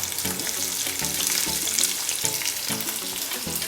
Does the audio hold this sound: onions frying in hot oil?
yes